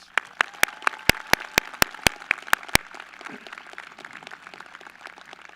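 A graduation crowd at a high school commencement applauds retiring staff, with a dozen sharp, evenly spaced claps ringing out close by over a softer bed of scattered clapping that fades after a few seconds.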